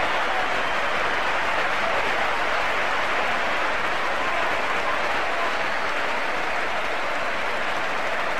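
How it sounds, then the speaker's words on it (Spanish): Dense, sustained applause from the football crowd at San Mamés stadium, a steady roar of clapping from many hands that holds at full level throughout without a break. "los Leones fueron despedidos con una gran salva de aplausos por la hinchada de San Mamés"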